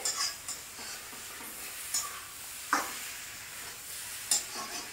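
Soft, steady sizzle of brinjal frying with onion in a pan, with occasional light scraping and stirring clicks, no voices.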